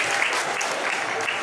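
Brief burst of steady audience applause at a temple initiation ceremony, a dense even wash of clapping from a crowd with no pause.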